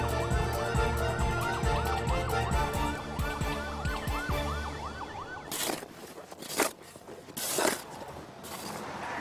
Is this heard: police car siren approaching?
yes